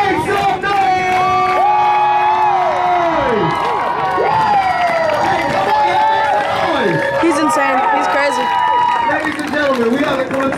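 A live show audience cheers, whoops and shouts loudly, with children's high voices and some clapping mixed into a sustained, dense roar of crowd noise.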